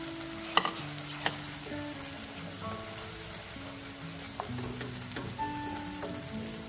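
Tomatoes with salt stir-frying in oil for dhaba-style palak paneer, a continuous close sizzle with scraping spoon strokes and a few sharp clinks against the pan.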